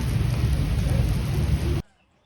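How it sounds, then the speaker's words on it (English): Rain falls in Lugano, a dense, steady roar of rainfall with a deep rumbling low end, loud and close, ending abruptly in near silence. "It's raining now."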